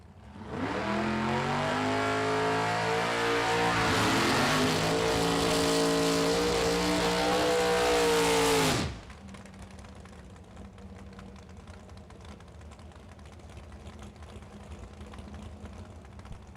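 Drag racing cars, a Nova against a Corvette Roadster, launch with a loud, close, rising engine roar at a Super Pro bracket event, then cut off sharply, leaving faint distant engine rumble and ambient noise.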